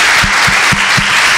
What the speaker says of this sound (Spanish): un merecido aplauso